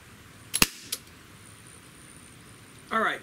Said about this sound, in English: let's do a quick trigger test on our Model 29